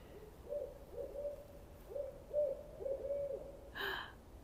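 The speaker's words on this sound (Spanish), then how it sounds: "se escucha como un búho que anda por acá." An owl hoots repeatedly from trees in Canada, a soft, low, rhythmic series of calls carrying faintly through the quiet outdoor air, ending with a brief brighter sound.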